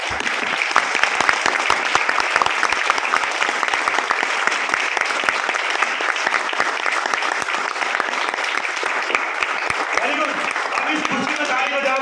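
A large audience claps throughout a Vestige business seminar, the applause loud, dense and steady for the whole stretch with a faint crowd murmur underneath.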